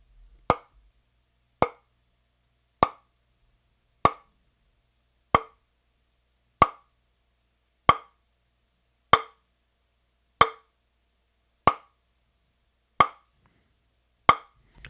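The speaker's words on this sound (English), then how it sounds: "One piece is just a limb, and the other is a fatter piece that I'm hitting together." Dry, hollow knocks of a thin wooden limb striking a fatter piece of wood, twelve in all, evenly spaced about a second apart, sharp and close with nothing else around.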